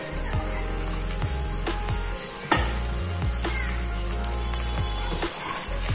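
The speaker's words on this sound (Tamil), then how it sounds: "நம்ம போட்ட மசாலா நல்லா ஃப்ரை வாட வருது" Masala frying in a pan with oil-stuffed brinjal, a steady close sizzle with occasional spatula scrapes and taps against the pan, continuing without talk.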